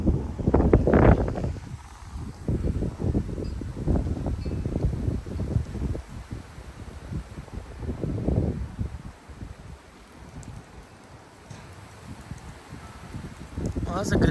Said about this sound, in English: that's a good gust on those oaks